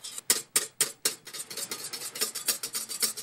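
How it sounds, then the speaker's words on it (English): Eggs are whisked in a bowl over heat, with a fast, steady run of rhythmic metallic strokes, sharper at first and then evenly repeated, close and alone without talk. "And then all we want to do is just whisk that until it's hot to the touch."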